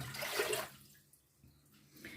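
Water pours into a saucepan set on a gas stove, about a litre for marinating mushrooms, a brief splashing rush that quickly fades to quiet.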